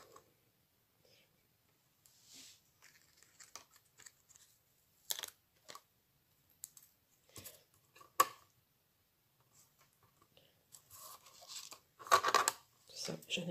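Scissors cut card paper for a hot-embossed card, with sparse, quiet snips and crisp rustles close by and longer pauses between cuts.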